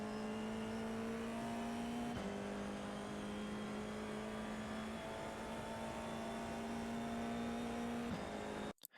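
An FIA F4 race car lapping Oran Park: a steady, high engine drone held at near-constant pitch, with brief dips at two gear changes, cutting out abruptly at the end.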